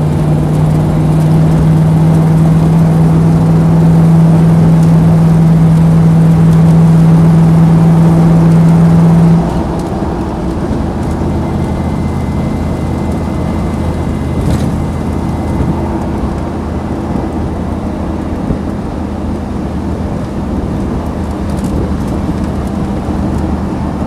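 A Land Rover 90 soft top with a V8 engine rumbles along the road, a steady droning tone cutting out partway while the broad low road and wind roar carries on alone.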